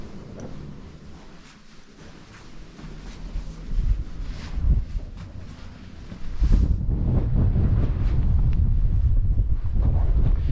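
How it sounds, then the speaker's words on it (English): Strong wind buffets the microphone in rumbling gusts on a hill walk up the Cheviot, getting louder and more constant in the second half, with no talking. "sounding really windy out there"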